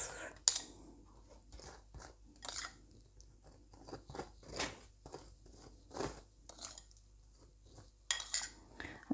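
Crisp, crunchy pokes and scrapes of a fork into the sugary baked top of a lemon drizzle cake, repeated in short irregular bursts, close and fairly quiet.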